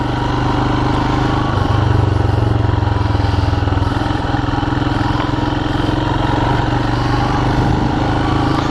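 Royal Enfield Himalayan motorcycle riding along a road, its engine a loud, steady drone with constant rumble and wind noise throughout, no speech.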